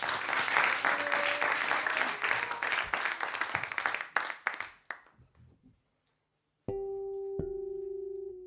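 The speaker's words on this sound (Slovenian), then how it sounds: "Aplavz." Studio audience applause on a live radio show ahead of a bass-and-voice duo's performance, a full burst of clapping that thins into scattered claps and fades to silence, then a sustained electronic tone and note begin.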